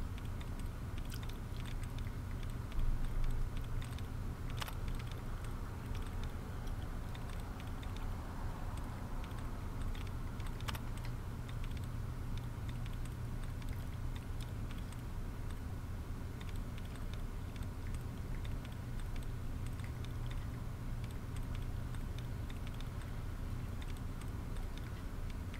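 Rapid keyboard clicking from a terminal-hacking screen in the video game Fallout 3, a steady stream of light ticks over a low constant hum, held at an even level throughout with no voices.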